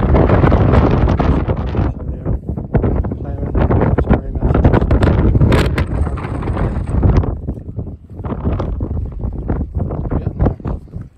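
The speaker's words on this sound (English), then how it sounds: "Wind is vicious." Strong, vicious wind buffets the microphone on a beach in Duxbury, Massachusetts during quahog clamming, a loud continuous roar with gusts throughout and no talk.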